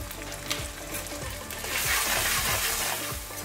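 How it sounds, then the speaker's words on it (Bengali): Spices (salt, turmeric, cumin and red chilli powder) sizzle and fry in a pan with a little water while cooking a vegetarian parwal (pointed gourd) dish, a steady close hiss with stirring scrapes throughout. "সামান্য একটু জল দিয়ে আমি মশলাগুলো খুব ভালো করে কষিয়ে নিচ্ছি।"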